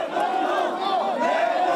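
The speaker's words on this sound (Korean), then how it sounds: "이내 야유가 쏟아집니다." A street crowd at a rally boos and jeers a government minister as people surround him at an intersection, a dense, continuous roar of raised voices held close and loud throughout.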